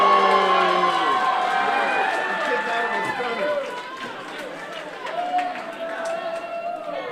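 A wrestling crowd in Uniontown lets out a loud collective murmur and gasp that swells and eases, with an excited commentator talking over the noise of the arena.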